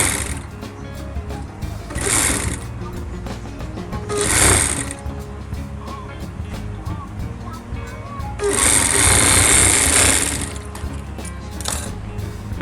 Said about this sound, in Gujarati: પછી આની ઉપર આપણે સિલાઈ મારવાની છે આવી જ રીતે.